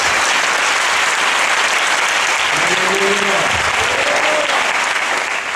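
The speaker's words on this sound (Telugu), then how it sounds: "మీరు చప్పట్లు కొట్టేటప్పుడే మీ దిగులు గుబులు యేసు నామముల పటాపంచలైపోవును గాక" A church congregation at a New Year's Eve night service claps loudly and continuously, a dense close roar of applause filling the space while a voice speaks briefly over it.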